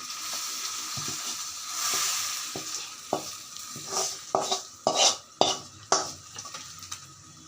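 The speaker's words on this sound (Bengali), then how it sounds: "এখন আমি মসুরের ডাল আর মুগ ডাল একসাথে রান্না করছি, সেটাতে এখন বাগার দিয়ে দিচ্ছি" A hot baghar of spiced oil hits a pot of cooked masoor and mung dal, sending up a loud, bright sizzle followed by sharp clanks and scrapes of a spoon stirring against the pot.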